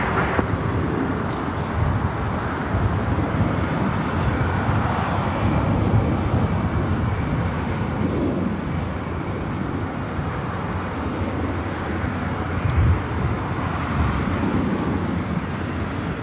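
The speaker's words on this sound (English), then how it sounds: "Waiting on our next arrival, which is Delta Connection Flight" Delta Connection Flight 3863 from Sacramento arriving at LAX, a steady broadband jet rumble that holds at an even, fairly loud level throughout, with no talking.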